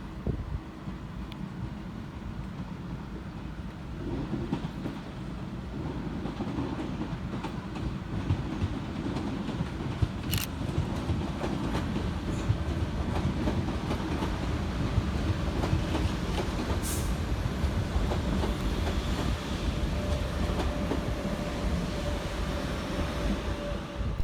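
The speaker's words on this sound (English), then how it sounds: "Next arriving into the station is 350-258, working the 1532 London Northwestern Railway service from Birmingham New Street through to" A London Northwestern Railway class 350 electric train rumbles into Crewe station, a steady low rolling drone with occasional wheel clicks and squeals, continuous and moderately distant.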